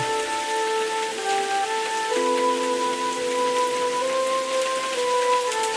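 Heavy rain falls in a constant, loud wash over farmland, drowning the crops, with a sustained musical melody playing beneath it the whole time.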